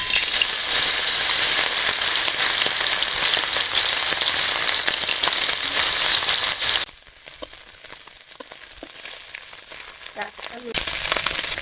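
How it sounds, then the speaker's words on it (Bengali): Fish frying in hot mustard oil in a kadai gives a loud, dense sizzle for several seconds, then drops sharply to a quieter crackle before rising again near the end, with no talking. "তেলটা তেজে গেছে, মাছটা দিয়ে দিই।"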